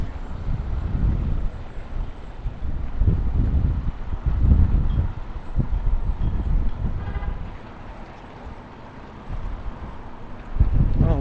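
Gusty wind rumbles across the microphone outdoors in a small Oklahoma town, swelling and easing in waves, loud through the middle and then dropping lower near the end before a final gust.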